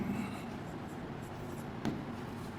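Chalk or marker strokes on a classroom board during an English grammar lesson, a soft scratchy writing texture running steadily throughout, with one brief sharper stroke near the end, fairly quiet.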